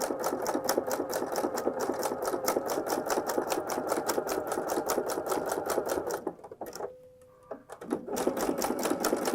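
A sewing machine stitches fold over elastic binding onto a raw fabric edge, running in a fast steady rhythm of close, loud needle strokes, pausing briefly near the end before starting up again.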